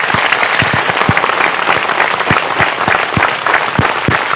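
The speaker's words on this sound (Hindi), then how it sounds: "एक बार सब एक दूसरे के उत्साहवर्धन में पुनः तालियों की गड़गड़ाहट करेंगे।" An audience at a religious discourse gathering breaks into loud, sustained applause, dense continuous clapping with sharper individual claps standing out, and no speech over it.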